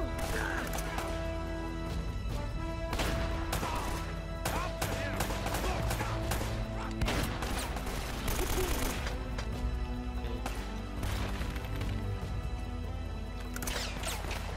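Shotgun fire in the video game Uncharted: Drake's Fortune, repeated sharp blasts scattered through a dense, busy game soundtrack of music and effects, with a voice now and then.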